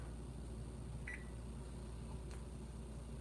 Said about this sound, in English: Timer.